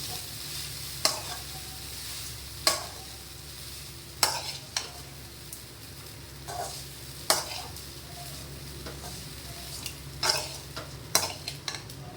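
Food being stirred and mixed in a pan, with scraping strokes every second or two over a steady, low sizzle in the background.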